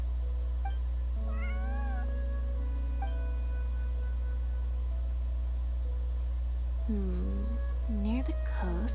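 A cat in the video game Genshin Impact meows several times, with short rising and falling calls spread across the stretch and a louder cluster of meows near the end over a steady low hum.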